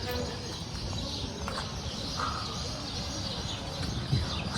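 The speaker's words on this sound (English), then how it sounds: "So many birds up in there too." Many birds in a huge tree in the city of Gjirokaster, Albania, giving faint scattered chirps and calls through a steady outdoor background, with some muffled voices nearby.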